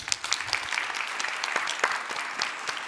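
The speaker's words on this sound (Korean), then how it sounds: "박수 한번 해주세요" Church congregation at an early-morning revival service claps together, a lively, dense round of many hands with sharp individual claps standing out, fairly close and continuous.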